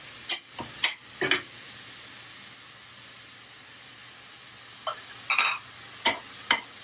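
Garlic sizzling in a hot pan for shakshuka, a steady soft hiss broken by several sharp clinks and scrapes of a utensil against the pan.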